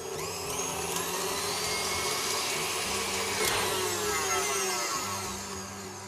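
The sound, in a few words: electric mixer beating cake lace mixture on high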